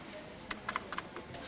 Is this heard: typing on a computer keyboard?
yes